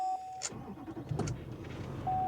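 Starter cranks briefly and an engine catches and fires up on a high-mileage car with an alternator overcharging at 19 volts, a short buzzing tone on either side, no voices.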